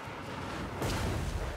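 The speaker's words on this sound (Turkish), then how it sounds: "İlk top atışı geldi." Cannon fire in the strategy game Total War: Warhammer 3 during a tournament match, a deep booming blast that swells about halfway through over continuous low battle rumble, with no talk.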